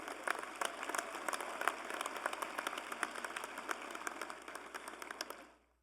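Applause from a college commencement audience: quiet, distant-sounding steady clapping from a large crowd that holds for about five seconds and then fades out.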